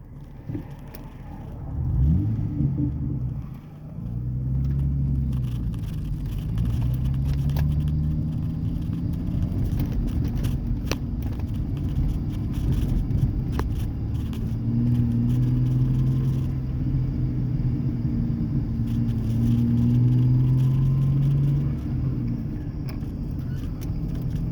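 A muffler-deleted 2003 Ford Ranger with a 4.0L engine, heard from inside the cab while driving: a steady low exhaust rumble and drone that rises and falls in pitch with throttle, fairly subdued and continuous, with no talking.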